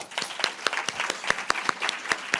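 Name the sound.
audience round of applause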